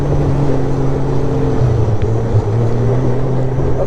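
A Sidewinder hot rod pulls away, its engine a steady, close, rough drone with a low throaty hum that shifts pitch slightly as it moves off, no talk.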